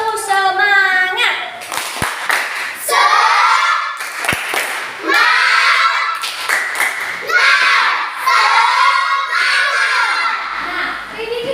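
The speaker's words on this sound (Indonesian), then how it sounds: "tepuk semangat." Schoolchildren in a classroom doing a rhythmic spirit clap, bursts of patterned group clapping mixed with children chanting and shouting loudly in unison.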